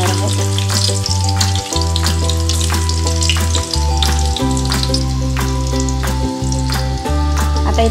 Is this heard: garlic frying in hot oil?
yes